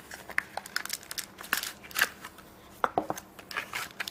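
Packaging of a Joyetech Ego One box is pulled open up close, giving quick crinkles, crackles and sharp snaps in irregular bursts with short pauses between them.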